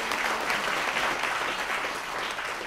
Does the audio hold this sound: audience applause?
yes